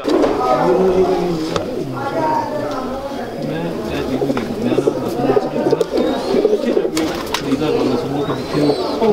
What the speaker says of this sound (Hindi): ये हमारे लोहे कबूतर हैं।